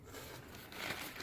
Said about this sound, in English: you're just going to put your wet paper towel into the plastic bag